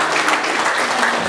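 Wedding guests applaud the newlyweds in a short burst of dense clapping, fairly close and steady throughout, with no voices rising above it.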